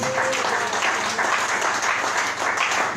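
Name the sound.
congregation applauding in church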